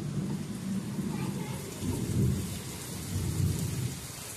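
Heavy rain pours steadily on a monsoon morning, with low rumbles of thunder swelling around the middle and again near the end, close and continuous with no voices.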